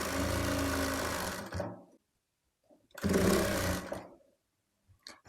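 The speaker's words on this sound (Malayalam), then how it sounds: "നമ്മളിതിന് മുകളിൽ കൂടെ സ്റ്റിച്ച് കൊടുക്കുക കേട്ടോ." Sewing machine stitching fabric for a frock made from an old shirt, running in two close, loud bursts with a silent pause between them.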